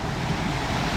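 Water from a secluded waterfall in Rishikesh pours in a continuous, fairly loud churning rush with a low rumble underneath, no speech.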